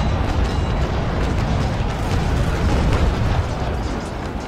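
Ship deck guns fire during a boarding action in the Naval Action video game, making a dense, loud barrage of overlapping booms and cracking bursts that rumbles continuously throughout.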